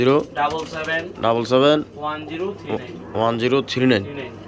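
Pigeons cooing close by in repeated, throaty rolling calls in short bursts, loud and nearly continuous.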